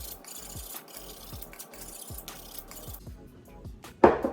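Steel kitchen knife scraped back and forth on the rough unglazed bottom of a ceramic mug, a run of short rasping strokes in steady rhythm, close and fairly quiet, ending with a louder clink.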